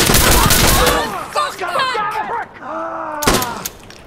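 A PKM machine gun firing in the video game Insurgency: Sandstorm, loud bursts of shots at the start and again near the end, with other game sounds and voices in between.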